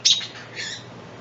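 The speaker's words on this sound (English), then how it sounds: "Here's our red robin again." A robin fledgling rescued from the ground gives a sharp, close chirp at the start followed by a softer second call, alone with no talk.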